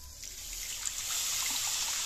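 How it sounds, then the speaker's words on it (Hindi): Water trickles steadily into a pan holding a small amount of leftover ghee residue, a soft continuous pour that grows slightly louder and fuller toward the end, heard alone without speech. "तो मैं इसमें डालूंगी पानी"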